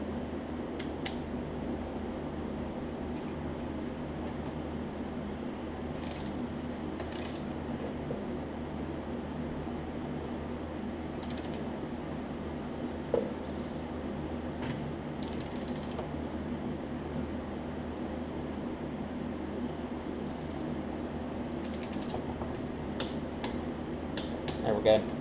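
A torque wrench ratchets as it tightens bolts on the Briggs & Stratton Intek engine of an MTD Craftsman riding mower, giving faint mechanical clicks and creaks against a steady low background hum.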